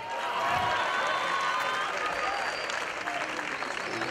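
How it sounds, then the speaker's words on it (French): Audience applause at a festival in Lubumbashi for a young comedian, steady dense clapping with some crowd noise throughout, fairly loud and continuous, with faint voices mixed in. "On applaudit le géant."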